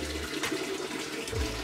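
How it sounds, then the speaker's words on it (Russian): Water pours steadily into a metal flask in a Russian bathhouse, a close, continuous splashing gush with a low hollow thud near the end. "А зачем ты во флягу воду наливаешь?"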